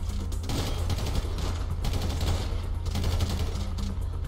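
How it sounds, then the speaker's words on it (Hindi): Rapid bursts of gunfire in GTA 5 crackle in quick succession, loud and close, with short pauses between volleys. "किस पे गोलियां चला रहे हो अंधो?"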